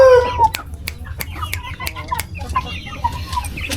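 Three-month-old young chickens cluck and chirp in a scattered, irregular run of calls, fairly close and moderately loud, over a low rumbling background.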